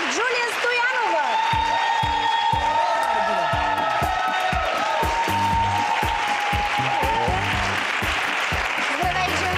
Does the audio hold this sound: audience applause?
yes